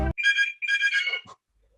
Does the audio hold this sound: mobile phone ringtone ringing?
yes